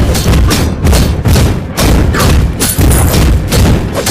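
Turret destruction in the Mobile Legends game, with Balmond in play: a loud, dense barrage of repeated heavy thuds and booms in rapid bursts, continuous and close for the whole stretch.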